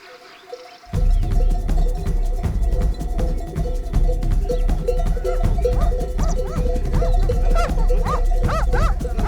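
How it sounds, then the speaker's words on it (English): Shepherd's dogs bark repeatedly out on open winter grazing land with a flock, loud sharp barks and yips coming in a steady, busy run, some overlapping, from close by. "The shepherd has the most intelligent and tireless help to guide the flock through this plant ocean: his dogs."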